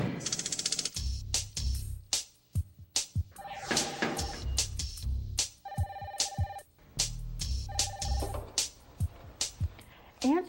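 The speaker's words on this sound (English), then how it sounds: "Answer the phone promptly, within 3 rings if possible." A telephone bell rings in three repeated bursts, loud and close, separated by pauses filled with voices and clattering sounds.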